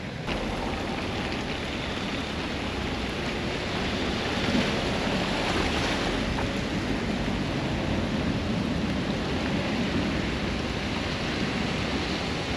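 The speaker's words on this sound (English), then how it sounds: "You can see how the water is flowing all the way down here." Water flows down a flooded street in Staines as a continuous, loud, broadband rush, steady and unbroken with no voices.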